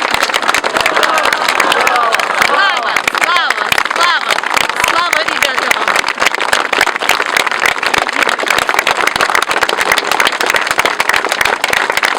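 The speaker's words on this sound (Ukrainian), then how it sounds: "я бы хотел, чтобы мы сейчас воздали какую-то вот нашими аплодисментами вот этим прекрасным людям, воинам" Mourners applaud fallen soldiers at a funeral in Kramatorsk, Ukraine, with loud, continuous clapping from a large crowd and shouting voices mixed into the noise throughout.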